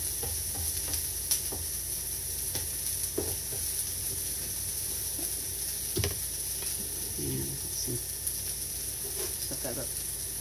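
Eggs sizzle steadily on a Pampered Chef Deluxe grill and griddle as omelets cook, a constant close frying hiss broken by scattered scrapes and stirring knocks, with no voices.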